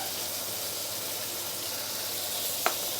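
Tomato sautés in a pan with ginger and garlic, giving a constant soft sizzling hiss that holds steady throughout, with a single brief click near the end.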